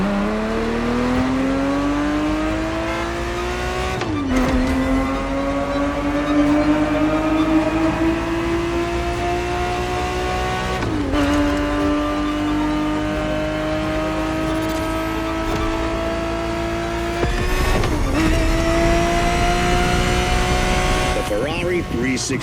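A 1970s Ferrari 365 GTB4 race car in The Crew Motorfest revs up steadily through the gears, its engine pitch climbing, dropping at each of three shifts, then climbing again, loud and close the whole way, under a voice talking.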